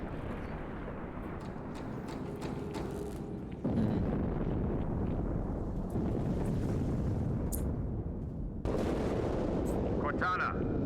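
A space station blows up in the game Halo 2: a massive, roaring blast rumble that surges in heavy broadband waves, punctuated by sharper crackling bursts, loud and sustained across the whole stretch.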